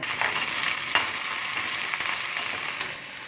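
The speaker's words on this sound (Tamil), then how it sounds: "ஒரு சின்ன கடாயில் தேவையான அளவு எண்ணெய் விட்டுட்டு கடுகு போட்டு தாளிச்சிக்கோங்க" Mustard seeds, urad dal, dried chili and curry leaves temper in oil in a small kadai, a loud continuous sizzle and crackle with scattered sharp pops; no speech.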